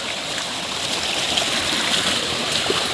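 Pressurised water from a burst pipe pours in a strong continuous rush. It is steady and close, with slight gurgling and splashing and no voices.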